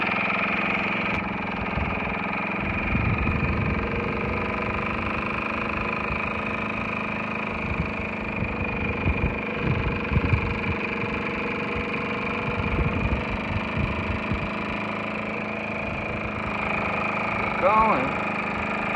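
A 1974 Evinrude 2 horsepower outboard motor runs steadily at close range with a continuous buzzing drone and small surges, some of them around 17–18 seconds, while speech is faintly present under it.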